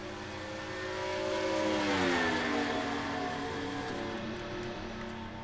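Race cars in a video game roar off the start of the KC Masterpiece 400 at Kansas, a loud, steady engine drone with rising and sweeping tones as the field accelerates away, no talking.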